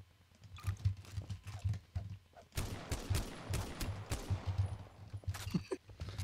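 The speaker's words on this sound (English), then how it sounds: "Die to the charge rifle, Wistful." Charge rifle fire in Garry's Mod, a string of sharp bursts and crackling shots in steady succession, close and moderately loud, with faint talk in the gaps.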